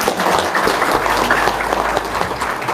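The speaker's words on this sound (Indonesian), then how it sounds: "Tepuk tangan dulu dong." A crowd bursts into applause, dense steady clapping from many hands that carries on for a few seconds.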